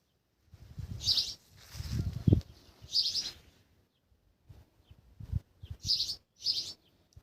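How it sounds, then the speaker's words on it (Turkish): Several short bursts of high, bright bird chirps from birds in nesting season, in quick clusters, fairly clear against a quiet balcony background with soft low rustling between them. "Cıvıl cıvıl var."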